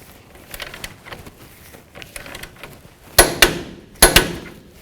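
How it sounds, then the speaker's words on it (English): A torque wrench tightens the front upper control arm bolt to 81 foot-pounds on a 2003–2009 Toyota 4Runner. Soft ratcheting is followed by three sharp, close clicks in quick succession. "now we're gonna torque it down. Torque this down to 81 foot-pounds"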